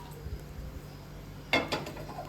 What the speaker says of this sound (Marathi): इकडं दुसरी कढई ठेवून घेऊया